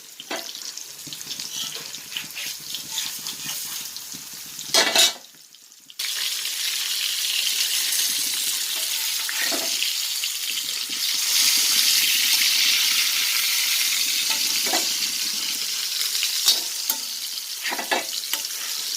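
Barracuda (cheela fish) roasting in coconut oil sizzles steadily in a pan, with scraping stir strokes and a brief pause partway through before the frying hiss returns, close and continuous with no talking.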